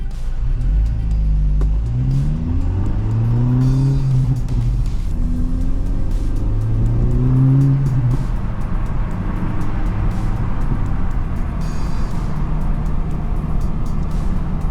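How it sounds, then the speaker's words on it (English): A Honda Civic Type R FL5 warms up outdoors in 39-degree Kansas weather, its engine holding a steady, close, low rumble with faint intermittent crackles over the top. "Car's warming up a little bit, so we might actually hear some little bit of pops and bangs."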